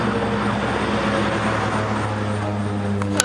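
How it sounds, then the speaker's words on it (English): A small propeller plane, probably a training flight, drones steadily over a backyard pumpkin patch, a continuous buzzing hum that holds level throughout without voices. "we got a plane buzzing around today"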